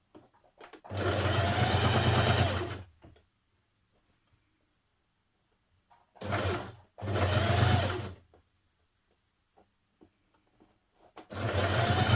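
A sewing machine stitches binding tape turned to the inside around a dress armhole, running in three steady bursts of a few seconds each, separated by quiet pauses.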